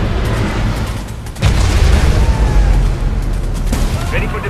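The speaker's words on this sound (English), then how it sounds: "Missile launched." A missile explodes in the mobile strategy game C&C Rivals, a heavy booming burst with rumbling follow-through and scattered crackles, loud and close, mixed with clipped unit voice lines.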